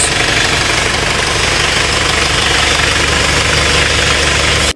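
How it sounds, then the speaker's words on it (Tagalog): A car engine runs steadily at idle, a loud constant rumble with a faint rhythmic knock and no talking. "para makita nyo yung makina, ito yung makina niya"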